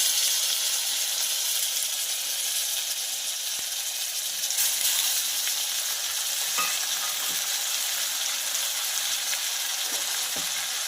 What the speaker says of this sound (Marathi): हे सगळं मिश्रण आपण एकदम फ्राय करून घेणार आहोत मऊ होईपर्यंत आपण याला फ्राय करणार आहोत